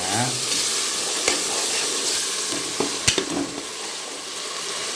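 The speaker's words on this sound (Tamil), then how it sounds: "இப்போ இஞ்சி பூண்டு சின்ன வெங்காயம் பச்சை மிளகாய் முந்திரியை போடுறேன் வாங்க. நல்லா வதங்கட்டுங்க." Ginger, garlic, shallots, green chilies and cashews frying for a large mushroom biryani, with a steady close sizzle and crackle throughout and a few sharp clinks of a ladle against the pot.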